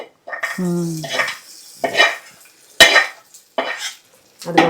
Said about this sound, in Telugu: పచ్చడిలో వేసేసుకుందాం పోపు